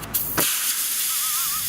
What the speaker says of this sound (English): I've always wondered what happens if you slash the tires with a giant knife.